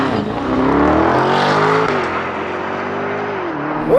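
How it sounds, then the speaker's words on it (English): A 2024 Lamborghini Urus Performante with its 4-liter twin-turbo V8 launches hard under launch control, a loud, sustained engine roar climbing through the gears with a brief shift dip, heard up close from inside or beside the car. "2024 Lamborghini Urus Performante. With launch control."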